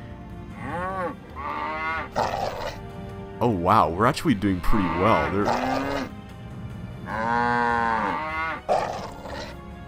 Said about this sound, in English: I love all those cow sounds